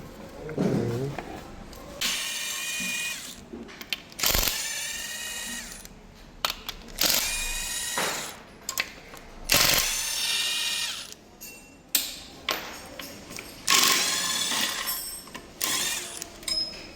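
A ratcheting wrench, 13 mm, loosens the bolts of a two-piece engine chain cover, working in repeated bursts of rapid clicking and whirring separated by short pauses, close and fairly loud.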